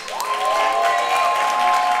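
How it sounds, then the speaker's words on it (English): Audience applause at an open mic night, steady clapping that holds for about two seconds, with a tonal sweep and music-like hum mixed in underneath. "Let's give a big round of applause for Preach."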